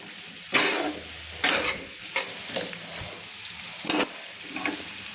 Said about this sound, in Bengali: দিয়ে আমি একটু তেলে নিয়ে কষিয়ে নিলাম